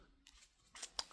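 A deck of tarot cards gets a quick shuffle close up, giving a few soft, papery riffles and flicks in short bursts over about a second in a quiet room.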